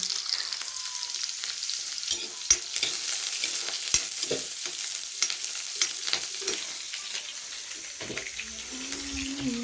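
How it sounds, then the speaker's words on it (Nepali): Onion frying in a pan in a home kitchen, a steady loud sizzle with scattered clicks and stirring scrapes, while a faint running tap or water sound joins near the end. "यो प्याज यतिको चाहिँ यो प्याज हाल्नु"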